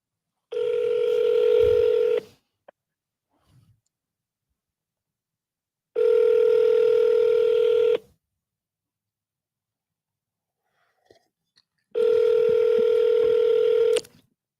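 A phone call rings out through an earpiece, three long steady ringback tones of about two seconds each separated by silent gaps, loud and clear with nobody speaking.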